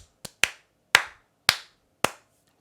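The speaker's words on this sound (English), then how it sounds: "you must be able to not only clap it out" Bare hands clap out the rhythm of a well-known melody such as Happy Birthday: five sharp, close claps at uneven intervals, each dry and quickly fading, with nothing else in between.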